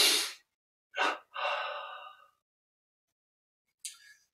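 Slow, deep breaths during a yoga and meditation exercise: a forceful exhale, a quick inhale, then a long drawn-out breath, followed by silence and a brief final breath, close and quiet with no talk.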